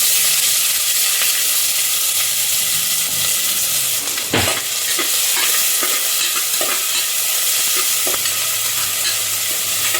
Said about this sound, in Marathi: जिरं मोहरी तडतडल्यानंतर आपण इथे कांदा टाकून घेणार आहोत